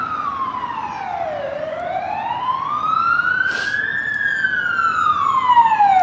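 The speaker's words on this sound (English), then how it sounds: "there's always a siren." An emergency vehicle siren on Blackpool Prom wails up and down in a slow rising and falling sweep over steady street noise, fairly loud and growing slightly nearer.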